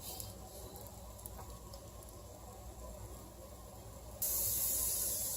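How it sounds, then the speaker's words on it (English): Onions sizzle in a pan that has been seasoned with black pepper, giving a steady soft hiss and crackle throughout. The hiss turns sharply louder and brighter near the end. "the onions are sizzling"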